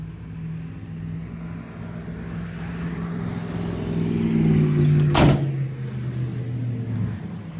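A door on a 1987 Buick Regal Turbo Limited T opens with one sharp, close clunk partway through, over a steady low hum and no talking.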